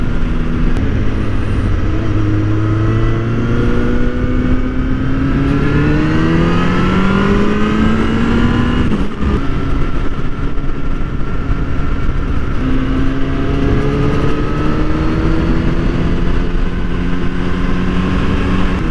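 A Kawasaki ZX-10R sport motorcycle riding on a rural road, its engine loud and close as it climbs through the revs in repeated accelerating pulls with gear shifts, continuous wind and road noise beneath.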